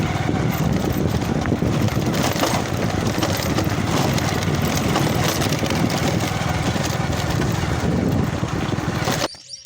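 A motorcycle engine drones steadily and loudly while riding, with wind rush over the rumble, cutting off suddenly at the end.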